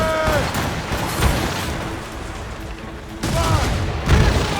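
Volleys of cannon and musket fire crack from a ship's broadside during a naval battle in Assassin's Creed Rogue. Bursts come at the start and again near the end, with a rumbling gap between them and shouted voices mixed in.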